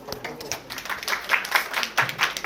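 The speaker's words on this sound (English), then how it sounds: "just a round of applause" Audience at a health talk applauding, steady close clapping that swells over a couple of seconds, with a voice speaking underneath.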